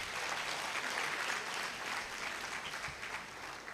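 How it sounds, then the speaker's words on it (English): Listeners applaud at the opening of a university alumni lecture, a broad, softish ripple of clapping from a sizable crowd, steady and slightly distant, carrying on for several seconds with no one speaking. "I'm not sure you are clapping for Mama."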